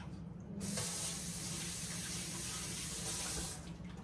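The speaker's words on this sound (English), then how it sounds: "let me wash my hands" Hands are washed under a running kitchen tap while preparing a slab of ribs: water gushes on abruptly and splashes steadily for about three seconds, then cuts off, close and fairly loud.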